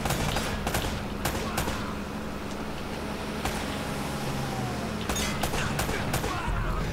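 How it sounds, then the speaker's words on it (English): Rapid bursts of gunfire in Uncharted: Drake's Fortune, sharp repeated shots crackling over a steady loud roar of background noise, with voices talking between the volleys. "I love how we can hear each other over the gunshots."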